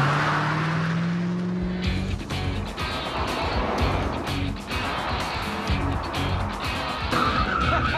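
A 1958 Corvette with a four-speed and a non-original motor on a test drive: an engine idle gives way to loud acceleration and rumbling drive, with tire squeal and gear changes over eight seconds.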